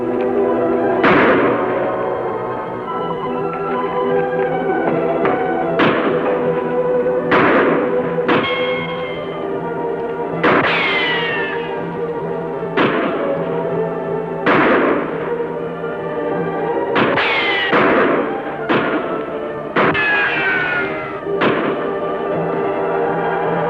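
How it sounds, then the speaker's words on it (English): Repeated gunshots from a radio drama shootout set among rocks, a dozen or so sharp reports at uneven intervals over a steady background, some close and loud, others quicker in clusters, with no talking. "Start firing."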